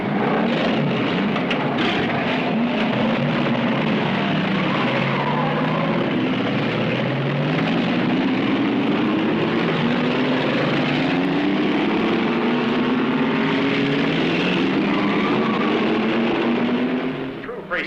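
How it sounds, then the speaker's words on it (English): Race car engines at a 1966 Chevrolet stunt-driving event start up and rev together in a loud, continuous roar, with pitch sweeping upward as the throttles open. "gentlemen, start your engines"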